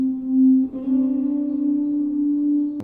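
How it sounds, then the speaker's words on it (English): Electric guitar lead drenched in heavy distortion with delay, a sustained, buzzing note that holds steady, then shifts and rings on with thick echoing tails, loud and upfront in an electronic pop beat. "with a whole bunch of distortion"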